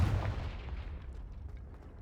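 A Confringo fire spell blast in Hogwarts Legacy booms loudly at the start, then its deep rumbling roar gradually fades over about two seconds with no voices.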